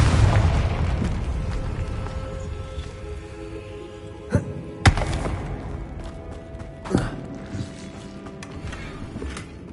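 Confringo blasting spell explosions in a Harry Potter video game: a rumbling boom at the start, then a few sharp thuds and pops in the middle, with a low rumble continuing beneath.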